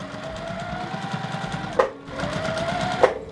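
A sewing machine stitches quilt binding in a steady, close mechanical whir, pausing briefly twice with sharp clicks between runs.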